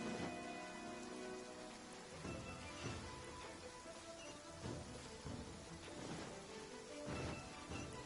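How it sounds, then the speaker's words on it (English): Rain in a courtyard in Genshin Impact, a steady, soft patter of drops on surfaces with occasional heavier splashes and a faint distant rumble, quiet and continuous with no voices. "I love listening to the rain from the courtyard"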